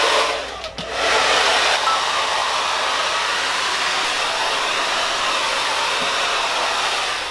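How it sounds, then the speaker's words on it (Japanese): A hair dryer blows steadily on wet hair, a loud, continuous rushing whir that starts with a brief dip and then holds an even roar for several seconds, with no voices. "全体をまず濡らし、そしてドライヤーをかけます。"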